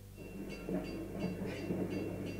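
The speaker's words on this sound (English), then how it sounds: "This is a train." A train sound effect plays from a Google Assistant device: a steady rumble with rhythmic clickety-clack beats, moderately loud and without talk.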